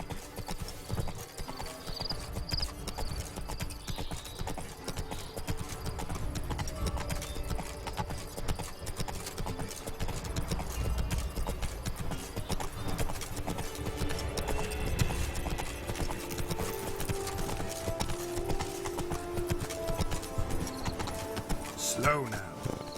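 Roach, the horse in The Witcher 3, gallops along in a steady rapid rhythm of hoofbeats over a low game soundscape, with a voice speaking at times and a brief whinny near the end.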